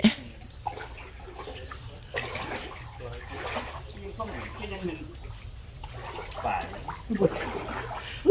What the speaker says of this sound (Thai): ใส่น้ำอย่างเมามันเลยสองคนนี้นี่